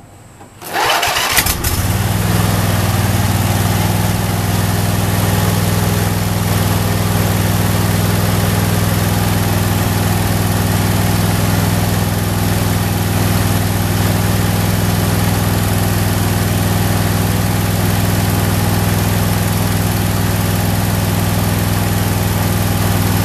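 A Briggs & Stratton engine wired to a battery through a voltage regulator cranks briefly and catches, then runs at a steady, loud idle for the rest of the stretch with no talk.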